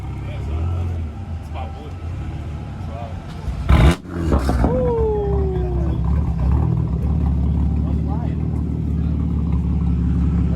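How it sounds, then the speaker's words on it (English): A Cadillac engine at an outdoor car show revs with a loud exhaust, a steady low rumble joined by a sharp blip and roar midway, under continuous chatter from nearby people. "Rev it. Rev it. Rev it for me."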